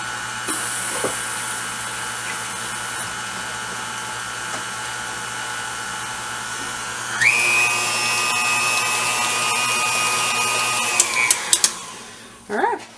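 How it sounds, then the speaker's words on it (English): An electric mixer whirs nearby, beating eggs and spices for a praline pecan pumpkin dessert. The whine holds steady, then rises in pitch partway through before it slows and stops with a few clinks. "Let's get our mixer or beater off of here."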